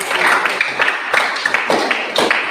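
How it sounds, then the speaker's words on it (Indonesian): Students in a classroom giving applause: a few rhythmic bursts of clapping from a small group, close and fairly loud, with brief voices between the claps. "Mari kita memberikan aplaus untuk"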